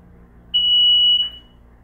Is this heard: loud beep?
yes